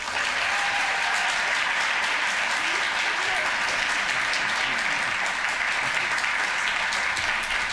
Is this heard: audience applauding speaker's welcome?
yes